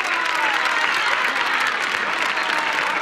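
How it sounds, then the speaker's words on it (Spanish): A TV studio audience gives a warm ovation on a Saturday-night variety show, broad continuous clapping that stays full and even throughout, crowd noise blended in. "Esa ovación buena para Paquita Rico."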